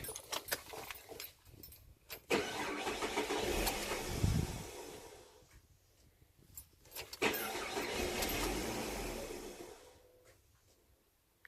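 Ford Barra 4.0 engine cranking after a battery change, two separate bursts of several seconds each with a rough, labored churn, separated by pauses, close and fairly loud with no talking.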